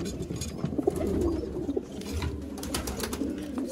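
Soft, low coos from pigeons kept by a fancier in Sialkot, Pakistan, sound close by amid faint background noise, with no talking.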